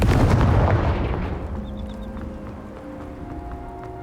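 A Confringo explosive spell in Hogwarts Legacy bursts with a loud, booming blast at the start, then rumbles away into a fading tail, with faint chiming tones and a low hum lingering after.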